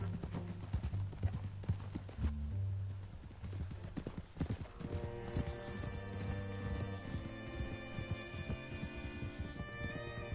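Rhythmic hoof clip-clops of a horse in the video game Red Dead Redemption 2 at a steady pace, close and clear, with game music and ambient sound swelling underneath.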